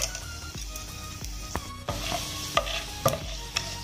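Cinnamon, cloves, cardamom and star anise sizzling in ghee for Malabar ghee rice, a bright steady sizzle punctuated by several sharp spoon clicks and scrapes against the pan, close and without speech.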